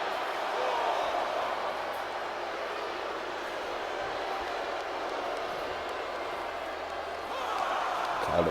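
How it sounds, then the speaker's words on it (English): A large wrestling arena crowd in the video game WWE 2K24 roars and jeers in a steady, dense wash of noise that swells slightly near the start and again at the end. "this crowd letting Trish Stratus hear it"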